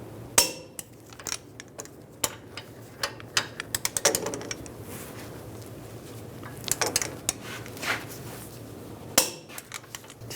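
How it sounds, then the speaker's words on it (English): Clicks and metallic ratcheting from a torque wrench tightening lower ball joint bolts on a Ram 1500 pickup, in irregular bursts of sharp close ticks and clunks with quiet gaps between. "Torque these bolts to 130 foot-pounds."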